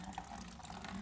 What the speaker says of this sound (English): leaking a lot of water